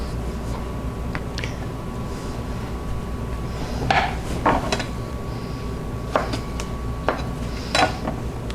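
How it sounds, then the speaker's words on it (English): Cucumber slices are pressed into a glass jar for garlic dill pickles, producing scattered knocks and clinks over a low steady hum, without speech. "So I'm going to go ahead then and pack in some more cucumber slices."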